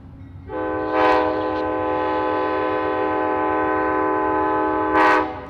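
A loud train horn blasts a long sustained chord near Tampa Union Station, swelling near the start and again near the end, with no talking.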